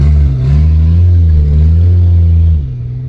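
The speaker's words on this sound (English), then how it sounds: "I'm gonna back into the garage." Jeep SRT8 with a loud modified exhaust idling and creeping in reverse into a garage, a deep throbbing rumble close by that holds steady, then drops away sharply near the end.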